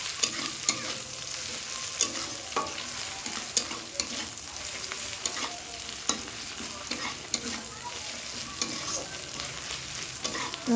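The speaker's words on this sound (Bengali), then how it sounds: "আমার পেঁয়াজ আদা রসুনটা খুব সুন্দরভাবে ভাজা হয়ে গেছে" Onion with ginger-garlic paste frying in a pan, a continuous close sizzle under repeated spatula scrapes and taps that come at an irregular, steady pace.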